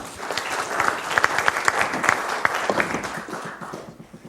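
Audience applause at an annual business improvement district meeting: a steady burst of many hands clapping, fairly loud and close, gradually thinning out toward the end.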